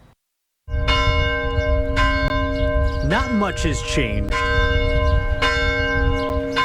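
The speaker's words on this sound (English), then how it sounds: "the Holy Rosary Church chimes have washed over Little Italy" Holy Rosary Church bells in Little Italy chime loudly and steadily, a rich ringing tone held throughout, while someone speaks briefly over the peals.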